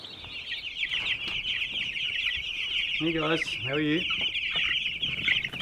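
Ross broiler chicks clucking and peeping in a constant dense chatter on a free-range homestead, with a man briefly greeting viewers over the flock.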